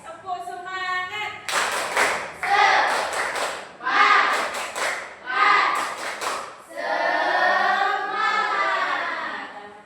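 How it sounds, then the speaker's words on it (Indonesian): A group does a rhythmic spirit clap in a classroom, several bursts of sharp claps in a patterned beat mixed with chanting voices. "Tepuk semangat."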